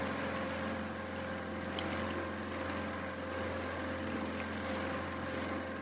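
An outboard-powered dinghy motors across the water toward a lighthouse in St. Augustine, Florida, its engine a steady, close drone with wind and water hiss and no voices.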